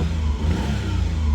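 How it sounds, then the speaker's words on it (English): A 2000 Daihatsu Atrai Wagon Turbo engine runs close and loud, a low mid-pitched rumble that rises with revving and settles back, continuous for the whole short stretch with no talking. "Let's go ahead and start this Atrai right on up."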